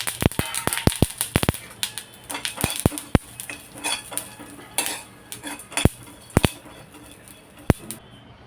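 Dry coconut, urad dal, sesame seeds and roasted chana dal dry-roasting in a pan, with a spoon clinking and scraping against the metal in irregular sharp taps over a quiet background.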